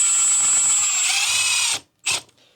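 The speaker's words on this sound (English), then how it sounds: "We're going to place that right on our drill" Power drill whines as it drives a screw into a wood veneer panel, a loud sustained run that ends abruptly, followed by a short second burst, no speech.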